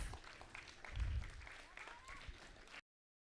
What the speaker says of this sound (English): Clapping for each other.